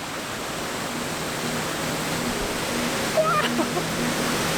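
Rushing meltwater and heavy rain pour down a valley swollen with collected snowmelt, a steady broadband roar of water close by that holds constant throughout.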